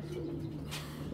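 A Gola (gende) pigeon coos close by, one steady low throaty coo followed by a brief softer stir, alone with no talking.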